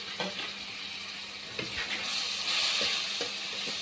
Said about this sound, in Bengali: মশলাটাকে আমি একটু কষিয়ে নিচ্ছি